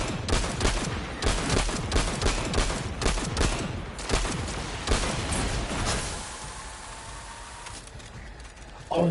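A video game gun fires continuously in rapid bursts of loud shots for about six seconds, then falls quiet to a low mechanical hum.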